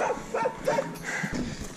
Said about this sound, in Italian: Ciao cane.